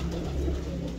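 Pigeons coo softly in a tiled pigeon loft in Punjab, a low, steady murmur of cooing with no talking over it.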